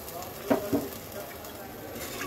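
Water is poured into a pan of sizzling country chicken curry, making a steady hiss with two brief splashy bursts near the start, close by.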